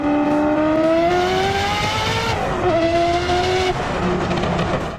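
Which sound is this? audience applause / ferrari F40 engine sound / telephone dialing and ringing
ferrari F40 engine sound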